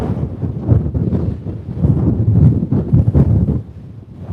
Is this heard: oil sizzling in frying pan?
no